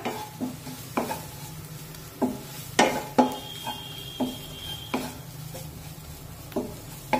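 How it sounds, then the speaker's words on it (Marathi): Asafoetida and turmeric sautéing in a pan over a low flame, with a soft steady sizzle under repeated scraping and tapping strokes of a spoon against the pan, and no talking. "हळद आणि हिंग छानपैकी परतून घेऊया।"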